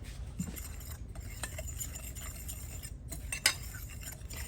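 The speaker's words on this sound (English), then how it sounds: "And then we're going to mix them up, and I would just use a fork for this job." A fork mixes dry cookie ingredients in a bowl with quick light scrapes and clinks against the sides, close and fairly quiet, and one sharper clink near the end.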